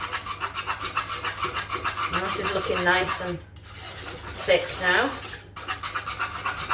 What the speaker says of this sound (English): Sorry for the scratching noise, but the pans are okay with metal utensils